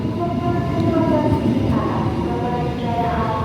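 Jakatingkir passenger train rolling into Cikarang station, a steady loud rumble of wheels and carriage noise with faint rail clatter running throughout, heard from on board.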